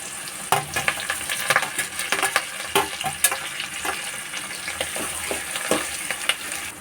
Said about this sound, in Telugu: కొంచెం సాల్ట్ వేసుకుని ఒక ఫైవ్ మినిట్స్ ఫ్రై చేసుకుందాము